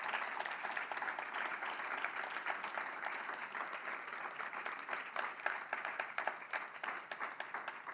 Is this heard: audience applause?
yes